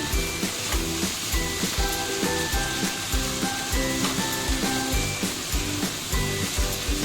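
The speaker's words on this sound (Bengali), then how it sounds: "এবারে এটা আস্তে আস্তে করে এটা কষিয়ে নেব" Masala with a spoonful of cumin powder fries loudly in a pan for a homemade chicken egg roll, a continuous close sizzle with regular scraping strokes of stirring.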